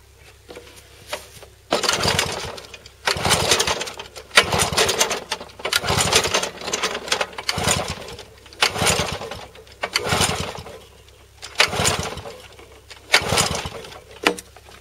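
A Wolf lawn mower engine, spark plug just refitted and fuel overfilled, cranks repeatedly without catching: about eight loud pull-start bursts of roughly a second each, separated by short quiet gaps, with no engine running afterward.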